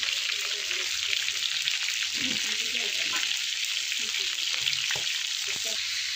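River fish crackles and sizzles as it fries crisp in a pan of hot oil, a continuous dense hiss with occasional sputters and faint scraping, steady and close.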